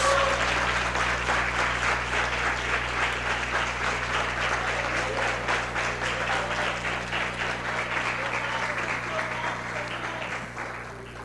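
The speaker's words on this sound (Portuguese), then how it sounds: "Será que você pode dar glória a Deus por isso e aplaudir a Jesus?" A church congregation applauding during a service, with dense sustained clapping over a low steady hum that slowly fades toward the end.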